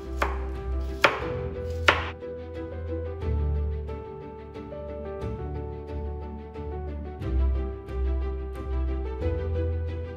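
A knife chops cucumber, ginger and lime on a cutting board in sharp strikes, some rhythmic, over a steady tonal background hum.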